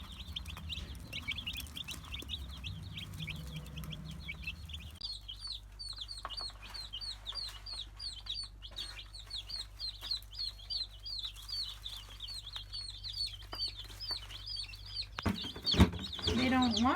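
Heritage chicken chicks in a brooder give steady, overlapping high peeping and soft clucking throughout, with a low hum underneath and a brief louder clatter near the end.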